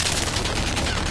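A sentry gun fires in Black Ops 4, a brief continuous burst of rapid automatic shots, loud and close.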